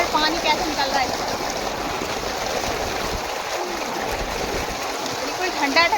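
Water gushes steadily from a farm tubewell among fields, a constant rushing splash that stays loud throughout, with occasional faint voices beneath.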